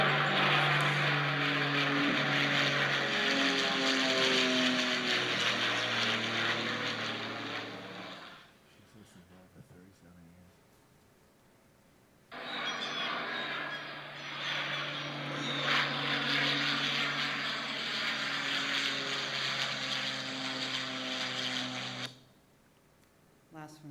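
Small flight-school planes circle low over a house, their propeller engines droning loudly and steadily for about eight seconds, fading, then a second long, loud pass returns before cutting off near the end.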